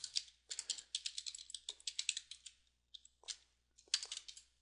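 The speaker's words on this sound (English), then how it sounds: "I'm just going to type it in" Code typed on a computer keyboard: quick bursts of crisp, close key clicks in irregular runs, separated by short pauses, with no voices.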